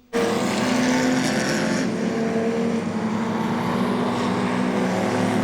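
Modified production race cars at Carina Speedway, a loud continuous engine roar that kicks in abruptly and holds steady, with several cars blending into one sustained drone and no talk.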